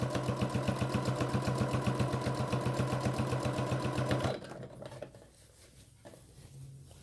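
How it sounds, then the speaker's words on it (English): A sewing machine stitches in an invisible zipper, its fast, even mechanical chatter running for about four seconds before stopping abruptly, leaving faint handling sounds. "I'm going to continue sewing until I get to the same point that I had over here on the other side."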